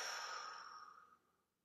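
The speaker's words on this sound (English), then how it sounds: "and breathing out." A slow exhale out through the mouth during a seated breathing exercise in a dance class for people with Parkinson's, a soft, airy breath close to the mic that fades gradually over about a second.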